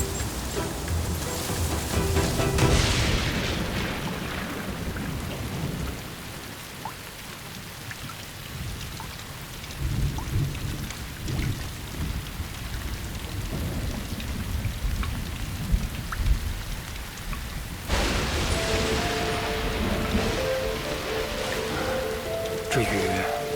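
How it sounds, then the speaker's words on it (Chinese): Heavy rain pours with rolling thunder in a thunderstorm, a loud, steady, dense roar throughout with surges and deeper rumbles partway through. "要下大雨了。"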